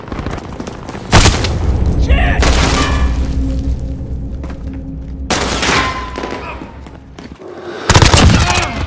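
Bursts of automatic gunfire in Call of Duty: Modern Warfare multiplayer Capture the Flag, with loud sharp volleys around the second, fifth and eighth seconds over a constant din of battle and distant shots.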